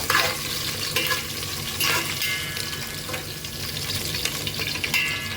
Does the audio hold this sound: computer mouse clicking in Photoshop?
no